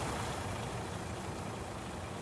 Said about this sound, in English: and then I can stop the engine